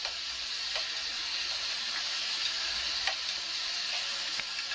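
Tomatoes sautéing in a pan for kalani pulichar kulambu, giving a steady close sizzle and hiss with occasional soft stirring clicks, no voices.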